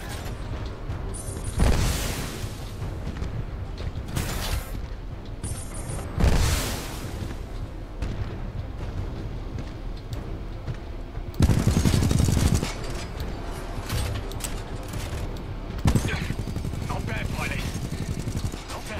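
Gunfire and explosions in the video game Titanfall 2: loud broadband bursts and rattling volleys recur through a steady battle din, with voices speaking over the combat.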